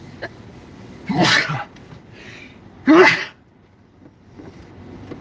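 Two sharp, close sneezes, one after another with a pause between, in an otherwise quiet room.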